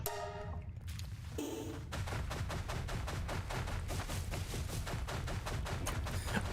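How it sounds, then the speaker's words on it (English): Rocket launcher fired in the survival game Palworld: a brief opening burst, then a loud, rapid, steady string of sharp gunfire-like blasts repeating for several seconds, with no talking. "Rocket launcher."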